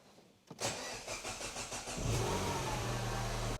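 A £100 replacement engine in a cheap Mini Cooper cranks briefly and catches, then revs up and settles into a steady, loud, close idle, with no talking.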